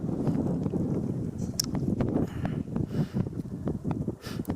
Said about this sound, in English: It's getting quite breezy.